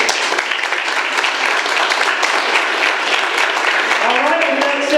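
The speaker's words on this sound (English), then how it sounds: "give yourselves a round of applause." Steady applause from a comedy showcase audience at a civic theatre fills the room, dense and continuous, with a voice starting to speak near the end.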